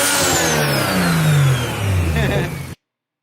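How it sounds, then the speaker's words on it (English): A turbocharged car engine revs up with a falling whine sweeping across its tone, loud and close, before cutting off suddenly. "Turbocharged cars produce a sound like this."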